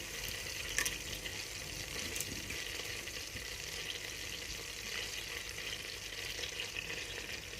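Cardamom, cloves and bay leaves fry in butter with a steady, even sizzle and faint crackle throughout, close up and alone, with one small clink partway through.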